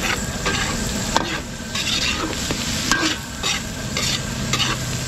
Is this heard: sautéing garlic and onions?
yes